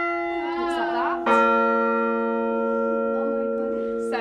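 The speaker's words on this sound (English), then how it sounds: "you have to swing them quite a bit before the clapper underneath hits the bell" A church tower bell struck by its clapper rings out loudly with a sharp strike followed by a long sustained metallic hum, a softer earlier tone before it and another strike starting at the end.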